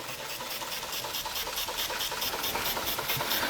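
An American Weeden No.900 model steam engine runs steadily up close, a continuous busy mechanical churn with a faint rattle and hiss and no pauses, with no voices.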